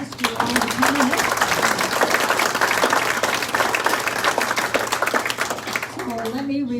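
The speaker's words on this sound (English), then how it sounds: "let's give a round of applause to all the candidates." Audience at a Republican candidate forum applauding the candidates, a steady wash of clapping from a moderately sized crowd, with a voice speaking briefly at the start and end.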